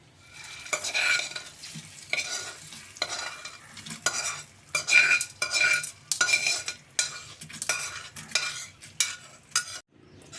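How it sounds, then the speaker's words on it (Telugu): Urad dal and tamarind chutney being stirred into a hot tempering in a pan, with repeated bursts of scraping and sizzling in an uneven rhythm, close and alone. "తాలింపు అయితే పచ్చళ్ళు వేసుకుంటున్నాను"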